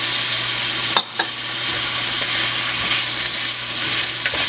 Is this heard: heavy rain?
no